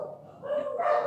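Dogs bark and yip nearby in a short burst, rising in loudness toward the end, with a faint voice mixed in.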